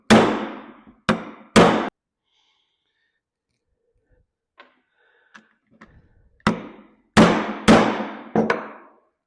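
Metal hammer blows drive a part onto a crankcase shaft through a sleeve, loud sharp strikes in two bursts of three or four, separated by a quiet stretch with faint clicks.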